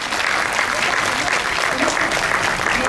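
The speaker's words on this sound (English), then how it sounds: "A huge round of applause for her." Applause from parents and students at a school orientation day for middle-section classes, a dense, continuous patter of clapping filling the room at steady volume for about three seconds, with faint voices mixed in.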